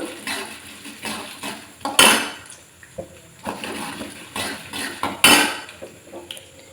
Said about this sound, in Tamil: ரெண்டு ஸ்பூன் உளுத்தம்பருப்பு ஒரு மூணு ஸ்பூனு கடலைப்பருப்பு சேர்த்துக்கிறேன் நல்லா ஃப்ரை பண்ணிக்கலாம்